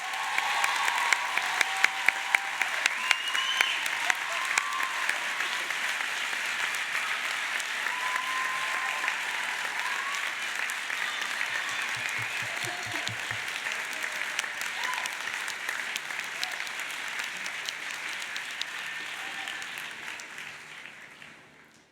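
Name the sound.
graduation ceremony audience applause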